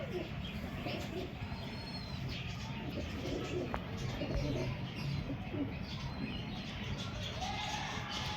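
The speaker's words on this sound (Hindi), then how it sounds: "ये टैडी कबूतर है" A teddy pigeon coos softly amid a dense backdrop of other birds chirping and rustling, with a faint voice in the background.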